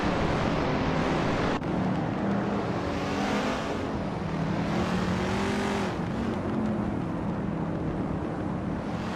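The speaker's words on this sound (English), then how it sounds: "Hope you're ready to watch some exciting AI car races." AI-driven race cars in a car racing video game, a dense loud engine roar with rising and falling revs held throughout, no talk.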